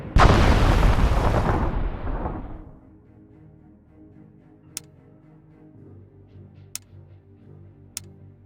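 Warship guns fire in the naval battle game Battle Fleet 2 as one loud, heavy blast that rumbles and fades over about two seconds, followed by a quiet low hum broken by a few sharp ticks.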